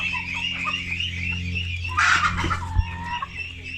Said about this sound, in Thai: พ่อพันธุ์ไก่ไข่สายพันธุ์ไฮบริดครับ